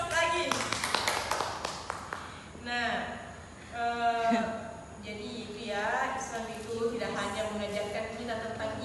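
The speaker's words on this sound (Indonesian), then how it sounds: "Beri aplaus." Students in a classroom clap for a classmate, a burst of applause at the start. Then a teacher's voice talks over the quieter room.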